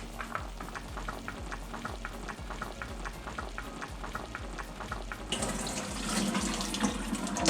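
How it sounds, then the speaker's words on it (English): Boiled potatoes are drained in a kitchen sink while cooking Polish żur sour soup. Water pours and splashes steadily, with faint ticking. Partway through, the sound swells into a louder, broader rush. "Drain the potatoes."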